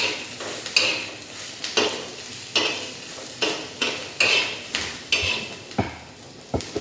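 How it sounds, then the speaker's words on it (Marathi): Coconut and onion fry in oil while a spoon stirs them in the pan, giving repeated rhythmic scrapes and clinks over a continuous crackling sizzle, close and without voices. "खोबरं पण चांगलं परतून घ्यायचं."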